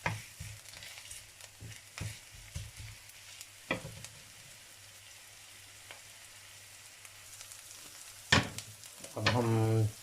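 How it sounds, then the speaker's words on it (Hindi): Green chillies and ginger fry in hot oil with a soft, steady sizzle, broken by scattered spatula scrapes and clinks, and a louder clatter near the end. "अब हम इसके अंदर सब्ज़ मिर्च और अदरक डालते हैं। इसको थोड़ी देर इसके लिए अंदर फ्राई करेंगे।"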